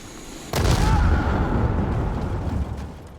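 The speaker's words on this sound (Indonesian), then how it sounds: "Terjadi ledakan." A deep explosion in the video game Dying Light The Beast, a sudden loud boom that becomes a heavy rumbling roar and slowly fades over a few seconds.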